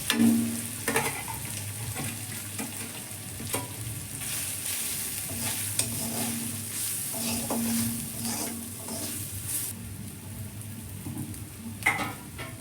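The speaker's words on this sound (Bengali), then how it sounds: "আদা রসুনটা একটু কষি হয়ে এবার সব মশলাগুলো ঢেলে দিলাম" Ground spices fry in oil with grated ginger and pounded garlic, a steady close sizzle under repeated scraping and stirring strokes of a spatula against the pan.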